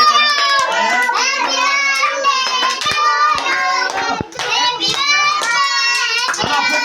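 Family members clap their hands at a parents' 57th birthday celebration, sharp claps sounding close under strong singing and children's voices, continuing with brief dips.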